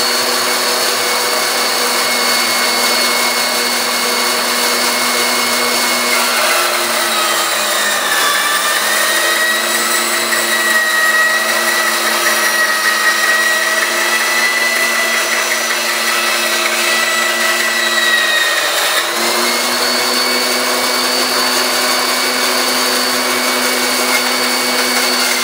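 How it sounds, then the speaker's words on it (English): Bandsaw slicing through tough plastic sheet for a knife sheath, a loud steady whine with tonal harmonics and dips where the blade load changes, running continuously without speech. "cutting them off on this bandsaw"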